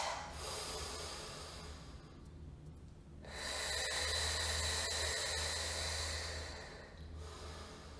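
Slow, deep breaths during a standing meditation exercise, long airy inhales and exhales close to the microphone, alternating in a calm rhythm with no talking.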